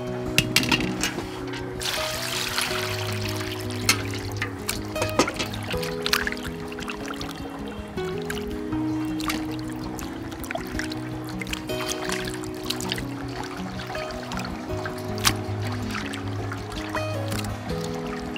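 River fish being washed by hand in water, with splashing, pouring and trickling sounds running steadily through the whole stretch under a constant tonal background hum.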